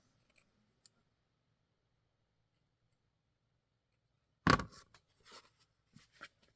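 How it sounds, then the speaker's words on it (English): Scissors snipping through a junk journal cover: a quiet pause, then a sharp cluster of close cutting snips followed by a few lighter clicks. "So I'll just cut it a little bit longer."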